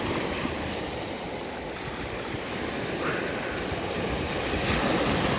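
Water washing at Kamenka beach in Yeysk, a steady broadband wash of surf with some wind noise across the whole stretch, continuous and fairly even, no distinct wave breaks standing out.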